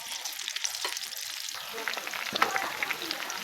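Onions sizzle steadily in hot oil for a home-style biryani, a continuous broadband crackle with occasional louder spits and scrapes of stirring, close and alone without talk.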